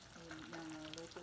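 Fish frying in hot oil for a sweet and sour dish, a soft, continuous sizzle with faint stirring, quiet and close.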